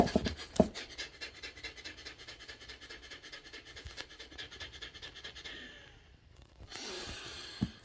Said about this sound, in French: Le concept, c'est de respirer très très vite,